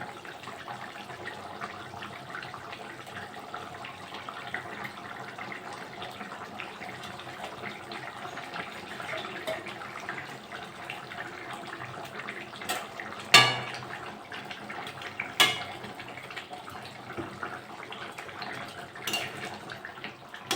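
A pot of fish curry with taro root and pumpkin boils steadily, giving a continuous bubbling hiss close by, with a few louder pops and splutters partway through.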